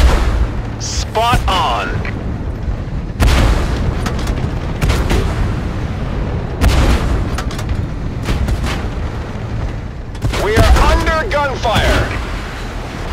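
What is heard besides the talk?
gunfire and explosions in video game Tank Force Modern War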